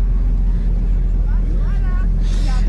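A car's gearbox and rear axle whine under a loud, steady driving drone, with faint rising and falling tones and voices talking over the cabin noise.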